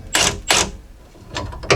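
A compact impact wrench zips out a sway bar link on a 2016-2021 Jeep Grand Cherokee, firing in short sharp bursts, two close together then two more after a pause, close and moderately loud.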